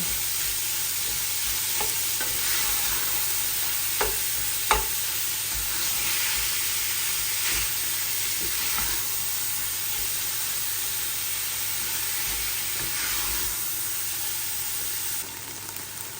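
Food being stirred as it fries in a pan until brown, giving a steady close sizzle with occasional scrapes and taps of the utensil and no talking.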